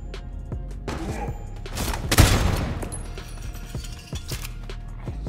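Rapid gunfire in a roguelike shooter game, a string of sharp shots with a louder burst in the middle, mixed with mechanical clicks and thumps.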